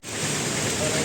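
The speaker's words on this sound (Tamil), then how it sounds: "சரியான மழை தான், ஃபுல்லாக வந்து நனைஞ்சிட்டே தான் போயிருக்கோம்." Heavy rain pours steadily during a bike trip near the Chengalpattu toll gate. It makes a dense, even roar that holds at a constant loud level throughout, with no distinct voices.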